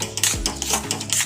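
A spoon stirring besan halwa with crushed cashews in a pan, giving quick scraping and clinking strokes close up, a few sharp metallic taps in an irregular rhythm.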